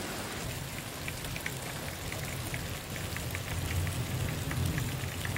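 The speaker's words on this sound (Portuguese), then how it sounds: "graças a Deus resolveu de vir a chuva nesse dia" Steady rain pours on a farm in the countryside. The dense, even hiss is broken by scattered louder drops, with no voices.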